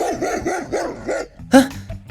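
Dogs in the Roblox video game attack with a quick run of rhythmic barks, loud and close, followed by a sharp louder yelp-like burst and game noise.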